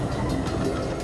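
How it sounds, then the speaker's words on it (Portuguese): A tram, or streetcar, rumbles along its rails in a steady, dense low roar with faint rhythmic clatter, loud and continuous for about a second. "isto é um bonde, um elétrico ou um trólebus"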